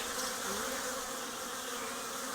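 Honeybees fly in carrying yellow and dark beet-coloured pollen, a dense, steady buzzing hum of many wings close by, continuous throughout without talk.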